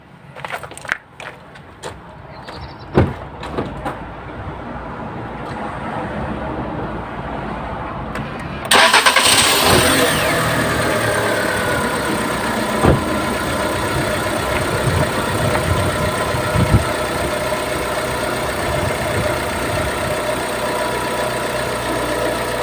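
A car fitted with an E85 flex-fuel kit cold-starting at about 15 degrees: a few seconds of starter cranking, then the engine catches with a loud surge and settles into a steady, slightly rough idle, close by with no talk.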